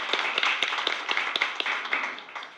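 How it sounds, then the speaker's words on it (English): An audience at a Board of Education meeting claps in a brief burst of applause, a dense run of sharp hand claps, fairly close and steady for a couple of seconds before tapering off. "Give him a nice round of applause."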